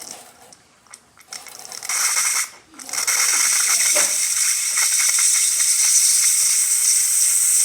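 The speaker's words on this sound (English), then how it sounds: "Nice strong steam." The steam wand of a DeLonghi Magnifica S espresso machine hisses loudly and close, after a few sputtering bursts and a brief pause, then blows a steady strong hiss to the end.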